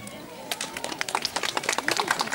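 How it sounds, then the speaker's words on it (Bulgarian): Applause from a crowd at a zoo's 68th birthday celebration in Stara Zagora, a dense patter of clapping that builds from quiet to steady over a couple of seconds, with no talk over it. "Аплодисменти!"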